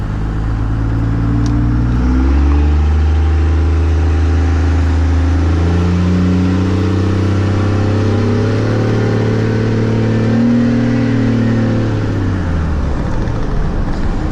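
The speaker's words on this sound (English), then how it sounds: "Just a quick little exhaust note for you guys." A diesel truck's exhaust rumbling close by, a deep steady drone that swells and eases as the engine revs rise and fall.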